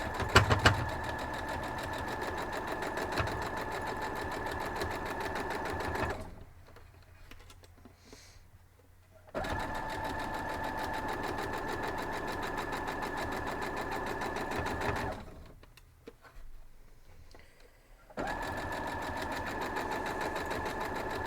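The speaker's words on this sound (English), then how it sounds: "I'm just going to sew down through this one instead of pinning them both because it's a smaller block" A sewing machine stitches through a small quilt block for a folded-corner Big T pattern, running in three steady, close whirring bursts separated by two short pauses.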